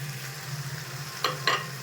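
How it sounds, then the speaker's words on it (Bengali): Chicken frying in a pan gives a steady, soft sizzle near the mic, broken by two brief louder bursts as tomatoes are added and stirred in. No one speaks. "চিকেনটা খুব সুন্দর করে ভাজা ভাজা হয়ে গেছে, এবার আমি টমেটোটা অ্যাড করব।"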